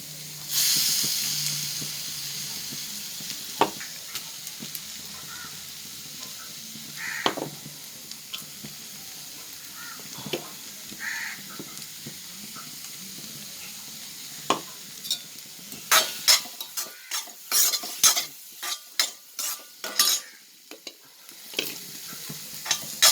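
Onions sizzle and hiss as they fry in ginger garlic paste for a country chicken roast, with a steady hiss broken by the scrape and clatter of a spoon stirring the pan. The stirring grows more frequent and sharper toward the end. No one speaks.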